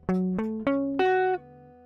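An electric guitar plays a short riff of four clean, ringing picked notes that step upward in pitch, heard alone.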